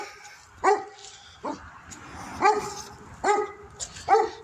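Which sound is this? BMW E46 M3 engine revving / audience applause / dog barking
dog barking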